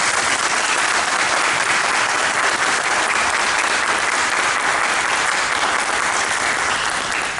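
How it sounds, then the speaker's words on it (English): Sustained applause from the audience at a union-hosted mayoral candidate forum, dense steady clapping that fills the room at even loudness from start to finish, with no voices standing out. "I think we should give them both a huge round of applause"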